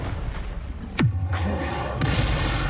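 Confringo spell cast in the Hogwarts Legacy video game, a sharp whooshing burst into a booming explosion that drops in pitch, followed by another hit about a second later over a continuous game backdrop.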